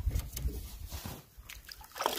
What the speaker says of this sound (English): I think this is where that creek comes down off the other lake.